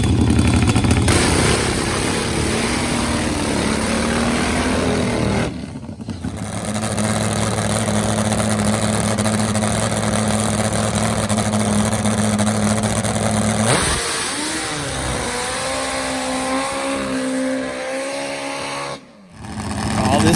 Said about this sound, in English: Two supercharged nitro burners. Wills on the four-cylinder bike, Turner on the V-twin.